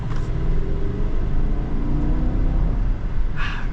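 A 2022 GMC Yukon AT4 V8 rumbles steadily and loudly at close range, a deep continuous engine drone with a brief brighter rise at the end.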